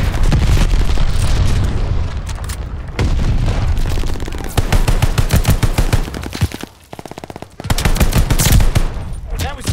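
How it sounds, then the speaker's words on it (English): Glide bomb explosions and gunfire fill a Call of Duty Vanguard team deathmatch on the Oasis map, with loud close booms, rapid machine-gun bursts and fusillades, and a brief lull near the middle. "Heads up! Enemy glide bomb coming in hot!"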